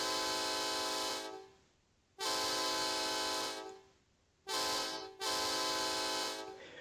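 Train horn of a CSX SD70ACE locomotive in a train simulator game, sounding loud and close in four long chord blasts of differing length separated by brief gaps, with no talk.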